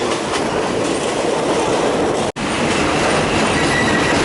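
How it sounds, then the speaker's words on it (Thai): Steady rumble of a train rolling along the rails as it arrives at Surat Thani station, with continuous wheel clatter and squeal throughout, cut by a brief dropout midway. "รถไฟที่นั่งมาก็ มาถึงสถานีสุราษฎร์ธานีแล้วนะครับ"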